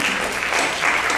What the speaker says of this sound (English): That's what's clapping right there.